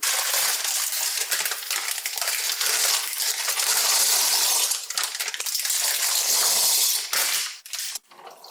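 Two bags of dry Italian macaroni pour into a pot of boiling water, making a dense, loud rattling clatter that runs for several seconds before thinning out.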